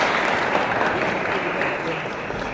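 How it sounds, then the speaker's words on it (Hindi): Children and teachers at a divisional school science exhibition break into strong, continuous applause, a thick wash of clapping that holds steady throughout. "जोरदार तालियां हो जाए।"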